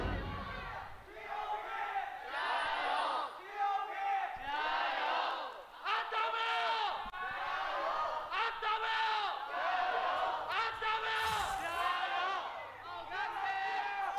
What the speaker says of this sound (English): Did I just hear an EDG as well as a BLG coming out from the crowd?